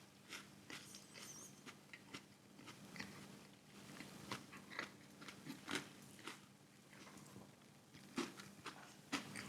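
Crisp, crunchy bites and chewing on a fried chicken sandwich with a thin filet, close up and fairly quiet, with irregular crunches spread throughout and no talking.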